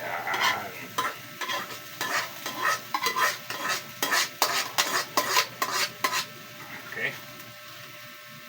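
Mung beans are stirred and sautéed in a pan with a spoon or spatula, making rhythmic scraping strokes over a soft sizzle, close and distinct, with a brief spoken word.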